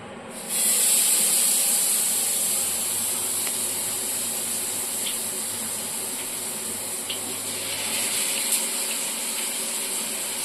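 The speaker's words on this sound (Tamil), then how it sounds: "எண்ணெய் ஊற்றிட்டு மீன் போட்டுக்கலாம்." Fish sizzles in hot oil on a dosa tawa, giving off a steady bright hiss that flares up as the fish goes in and carries on, fairly quiet and even, until a brief swell near the end.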